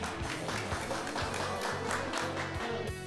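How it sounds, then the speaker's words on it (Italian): Audience applause for a student at a cooking-school recipe show, a steady, close patter of many hands with a low murmur underneath. "un bel applauso a questa ragazza"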